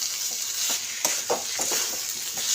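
Green tomato chochri being stirred in a hot pan, a steady frying sizzle with a few soft scraping strokes of a spoon against the metal, close and alone with no talking.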